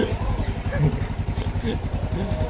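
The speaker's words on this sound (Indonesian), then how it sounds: "Ada motor mas." A motorcycle engine passes close by, a loud low throbbing pulse lasting the whole moment, with people talking over it.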